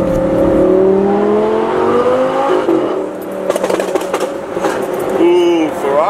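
A Ferrari driving past on a street in Beverly Hills, its engine note rising and falling as it nears and passes, fairly loud and close, with a second sweep of engine sound toward the end.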